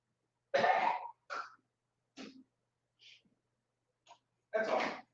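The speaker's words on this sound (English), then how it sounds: "I'm just gonna walk over here and clear my throat" Someone clears their throat with a series of harsh, separate hacks and rasps, close by, with short silences between them.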